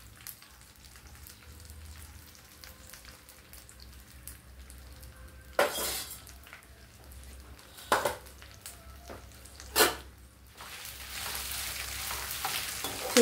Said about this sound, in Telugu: ఈ కలర్ మిరపకాయలు కొంచెం రెడ్ కలర్లోకి వచ్చేదాకా వేగించుకుందామండి